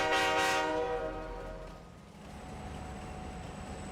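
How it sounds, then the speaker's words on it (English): A train in Farming Simulator 22 crosses a bridge in a forest setting, its horn blaring loudly at first and then fading into a steady rolling rumble of wheels that carries on to the end, with no talk. "the train does look good heading over this bridge"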